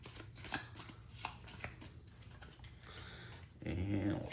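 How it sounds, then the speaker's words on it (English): Card-sleeved playing cards riffle and snap together in quick soft bursts close by, a brief shuffle that ends with a louder flurry. "And we'll shuffle up the pink ones."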